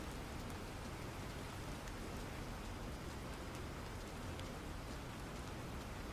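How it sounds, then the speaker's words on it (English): Steady rain falls in the video game Planet Crafter, a dense, even hiss of drops on surfaces that continues unbroken at moderate loudness throughout. "I think the sound of the rain in this game is probably better than the sound of the rain in Farm Sim."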